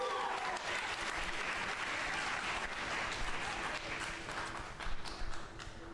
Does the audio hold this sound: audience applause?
yes